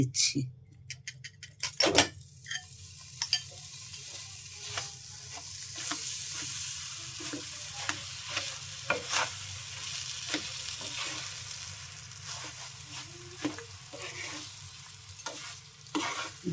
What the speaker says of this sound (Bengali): দিচ্ছি ঘি আর বুট এটা ভেজে নিচ্ছি